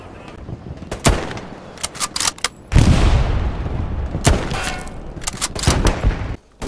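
Repeated tank cannon fire and explosions in the WWII shooter Hell Let Loose: loud, sharp blasts arrive at irregular intervals, each trailing a long rumbling decay, with scattered gunfire between them.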